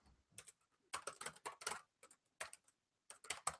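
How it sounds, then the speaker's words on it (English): Quiet tapping on a computer keyboard entering a web address, irregular bursts of clicky keystrokes with short pauses between, close and soft with no voice. "Here's my typing."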